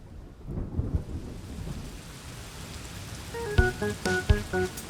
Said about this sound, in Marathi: असं वाटतं पाऊस पडणार आहे.